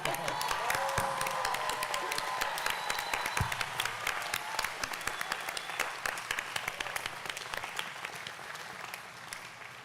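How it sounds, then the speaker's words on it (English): A large crowd applauds steadily at a university graduate commencement ceremony, dense clapping sustained for about ten seconds with a few faint cheers mixed in. "I think this is where you get a big round of applause."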